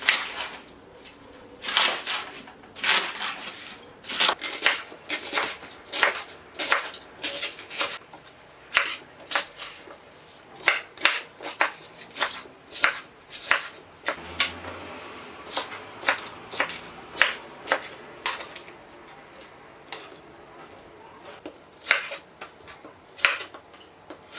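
A knife chops leeks on a cutting board in quick sharp taps, coming in uneven bursts with short pauses, close and clear.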